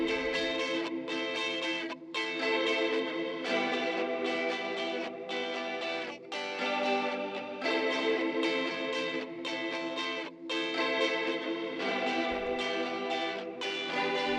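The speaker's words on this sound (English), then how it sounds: "So we just have that like dreamy, big reverb on there, creamy reverb, and then we have more electric guitars coming in." Layered electric guitars drenched in dreamy, big reverb play a continuous pop production passage with chorus-like shimmer, loud and sustained, with brief rhythmic pauses between phrases.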